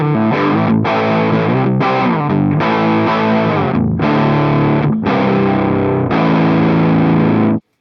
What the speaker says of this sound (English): we don't normally get to play through tape distortion as guitar players